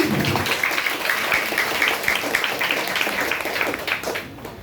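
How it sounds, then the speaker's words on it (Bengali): Audience applause at a clothes distribution event for poor children, a steady, fairly loud wash of many hands clapping that fades out in the final second. "আমি সবার কাছে একটা জোরে হাততালি চাইব প্লিজ"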